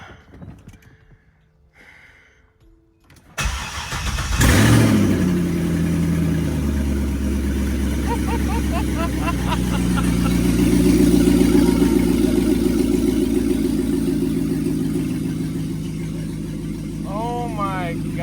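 A freshly swapped LS2 V8 in a C6 Corvette cranks and fires on its first start, surging loudly then settling into a deep steady idle with rising revs, while people talk and exclaim nearby.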